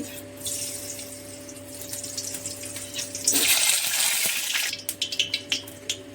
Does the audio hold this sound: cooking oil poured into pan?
yes